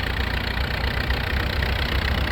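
Tractor engine running during wheat threshing, giving off heavy smoke, a steady loud low rumble that continues unbroken throughout.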